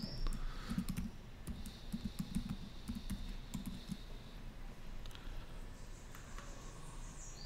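Password keys tapped on a computer keyboard in a quick, light clatter of clicks during the first four seconds, then quieter room noise with faint background chirps.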